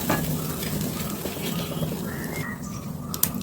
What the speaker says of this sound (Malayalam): കാശ്മീരി മുളക് പൊടി ഇട്ട് ഇളക്കി അതിൻ്റെ പച്ചമണം കളയണം